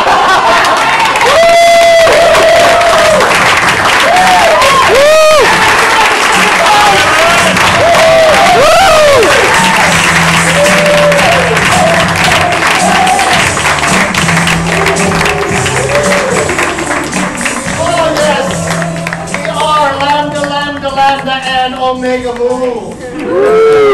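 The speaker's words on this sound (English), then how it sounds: "Special round of applause for the Cobra Kai jacket." A festival improv theater audience applauds and cheers loudly throughout, a thick steady wash of clapping and crowd noise with voices talking and calling out over it.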